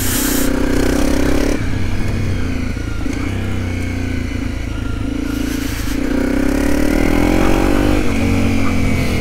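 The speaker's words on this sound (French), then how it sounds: "Pierre, le propriétaire de cette 250 CRF Rally, me propose d'aller faire un tour et de l'essayer." A Honda 250 CRF Rally motorcycle ridden on muddy ground, its single-cylinder engine droning steadily close by with rising and falling revs as the throttle is worked, and some clattering and scraping underneath.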